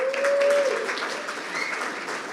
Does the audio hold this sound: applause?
yes